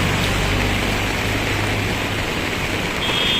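Morning rain pours onto a city street in Dhaka, a loud, dense, steady wash of falling water with a low traffic rumble beneath it, continuous and close.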